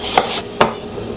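Two sharp knife chops as a carrot is diced on a cutting board, each a brief, close, crisp tap, spaced about half a second apart over quiet room tone.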